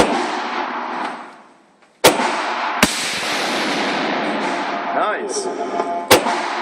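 An M48 bolt-action rifle fires three sharp, loud shots, spaced about a second apart, then a fourth a few seconds later, each cracking over steady outdoor noise while a person speaks briefly.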